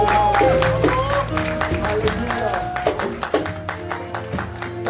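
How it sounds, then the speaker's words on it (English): Rhythmic clapping from a church congregation at a praise night, steady and fairly close, mixed with loud sustained music and singing from the praise team. "Don't stop clapping until you get there. Keep clapping."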